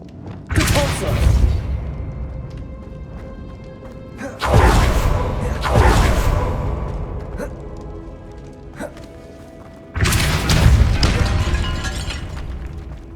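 Repulsor spell cast in Hogwarts Legacy, three loud booming bursts with crashing debris, each striking sharply and then decaying over a second or two, with quieter gaps between.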